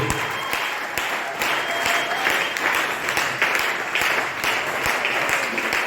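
Enthusiastic applause from a church congregation at a closing worship service, dense clapping with a few sharper claps standing out, continuous and fairly loud from start to finish.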